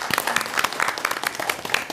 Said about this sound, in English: I just wanted to offer a round of applause for Tululupe Omokoye as our chair.